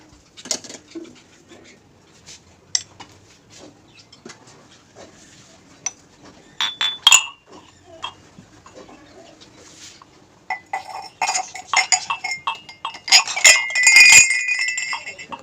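Washed dishes and plates being stacked and put away at home: scattered light clinks and taps, faint and sparse at first, then thicker, louder rattling of crockery toward the end, with no voices.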